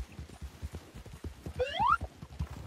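A horse in Red Dead Online plods with steady clip-clopping hooves, then gives a short rising whinny partway through, fairly faint, with no talk over it.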